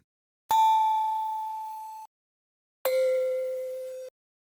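Two separate synthesized tones, each struck sharply and ringing for about a second and a half, the first higher than the second, with bright overtones.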